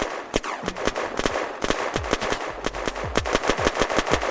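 Automatic gunfire in the survival game Unturned rattles in rapid overlapping bursts of sharp shots, fired at players from below, loud and dense throughout with no talk.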